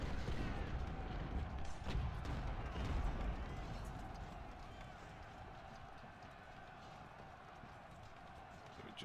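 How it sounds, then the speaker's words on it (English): Cavalry horses gallop across the field in the Civil War strategy game Ultimate General, a dense rumble of hoofbeats with distant cannon booms early on, gradually fading. "we gallop over, but I suppose it's more of a canter at this condition"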